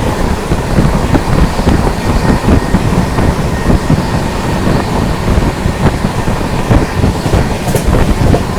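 An Indian passenger express train runs at speed, passing another train, with a loud continuous rumbling roar and rhythmic wheel clatter, close and steady throughout with no talk.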